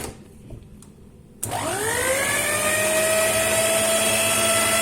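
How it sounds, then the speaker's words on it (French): Eggs and vanilla sugar for a cake batter being whipped by an electric mixer that switches on after a quiet moment and spins up into a loud, steady high whine that holds to the end, with no one talking. "Vous mettez vos œufs, le sucre vanillé et on va fouetter jusqu'à ce que le mélange va tripler"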